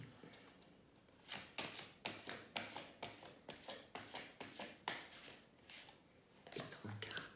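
Tarot cards are handled and laid down one after another in a fast, soft run of crisp flicks and slaps, faint and close by, with a hushed voice now and then.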